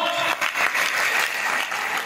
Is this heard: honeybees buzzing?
no